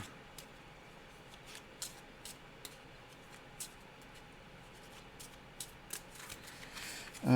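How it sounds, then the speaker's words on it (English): A deck of cards shuffled during a solo tabletop dungeon crawl game, faint soft riffles and scattered light clicks and taps at irregular intervals, close and otherwise quiet. "Okay, shuffle and draw."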